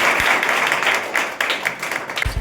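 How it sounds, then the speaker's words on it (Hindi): Schoolchildren at a government school clap together in a sustained burst of applause, a dense, steady patter of many hands, close and fairly loud, continuing throughout. "चलिए एक बार ताली बजाइए सब लोग।"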